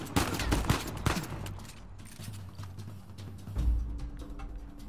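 Gunfire during a firefight in Uncharted 4: A Thief's End, with a few sharp bursts of shots up front and another burst later, set against steady low-rumbling game ambience.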